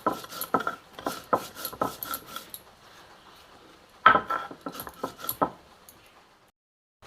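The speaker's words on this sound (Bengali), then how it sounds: "এটাকে আমি শিলে বেটে নেব।" Radhuni spice seeds are ground on a stone grinding slab for lau shukto, making rhythmic gritty scraping and rubbing strokes, close and fairly quiet, with a pause before another run of strokes.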